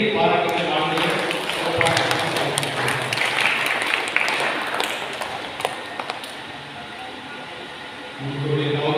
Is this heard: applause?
yes